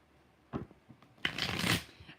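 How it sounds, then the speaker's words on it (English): Tarot cards are shuffled close up: a short riffle, then a longer, louder flurry of paper flicking lasting under a second. "5 shuffles"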